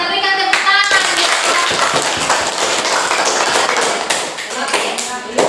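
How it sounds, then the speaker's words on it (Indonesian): Students in a classroom clap together after a group presentation, loud rhythmic hand claps and taps filling the room nearly throughout, with children's voices mixed in and a brief pause near the end. "Iya, kita berikan tepuk tangan."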